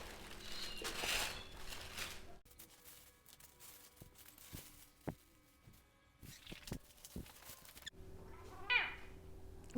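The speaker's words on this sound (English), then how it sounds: "With a cat on it." A cat meows indoors at close range, with a couple of short cries among soft rustling and handling sounds.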